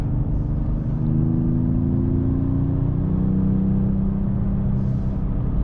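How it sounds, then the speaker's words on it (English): Six-cylinder engine of a 2025 Mercedes-AMG E53 hybrid sedan revving on a drive, a steady close rumble with a slowly rising and falling engine note, heard alone and evenly loud throughout. "But you still have this amazing 6-cylinder engine."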